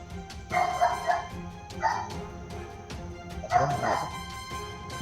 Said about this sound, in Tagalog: Mag-iingat ka sa mga aso. Mga askal yan. Mga askal yung aso na yan.